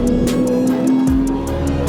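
Lamborghini Diablo GTR engine on a racetrack, a loud steady high-revving drone heard from on board, with a brief shift in pitch partway through.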